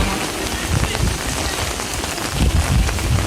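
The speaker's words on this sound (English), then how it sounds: "full of water and the wind are so strong. Now the rain is also very cool." Heavy rain pours and strong wind gusts during Cyclone Nivar, a dense, steady hiss of downpour with low rumbling buffets of wind throughout, close and loud with no talking.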